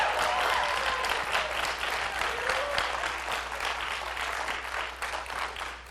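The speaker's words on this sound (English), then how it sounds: "Give these guys a round of applause." A church audience applauds the youth camp helpers at a Sunday evening service, steady dense clapping throughout, loud and close, with no talk over it.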